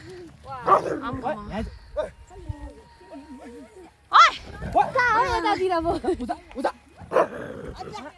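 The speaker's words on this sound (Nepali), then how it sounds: "कुकुरको फाइट भयो यहाँ बिच बाटोमा" Dogs snarl and bark in sharp bursts during a scuffle in the middle of a road, with yelps between, while people talk nearby.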